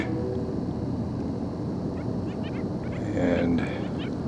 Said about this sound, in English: don't know if you can hear those birds out there.